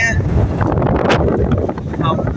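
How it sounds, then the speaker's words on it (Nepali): Strong wind buffets the microphone outdoors in hilly country while travelling, a loud continuous rumbling roar with gusty swells throughout. "त्यस्तो कडा हावा चलिरहेको"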